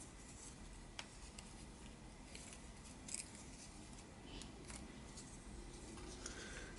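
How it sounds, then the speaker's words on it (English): Paper being torn by hand for a junk journal cluster in a quiet craft setting, a faint, steady rustle and scratch with a few soft sharper tears, close up and with no talking. "let's rip this a little."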